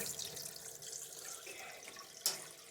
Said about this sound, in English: Turn the hot water on since I'm right next to it.